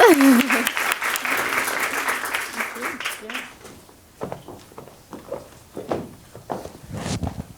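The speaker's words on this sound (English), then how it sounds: "let's give them a big round of applause" An audience at a New York City Jewelry Week panel applauds as the panelists take the stage. Loud clapping fades after a few seconds into footsteps and small shuffling sounds.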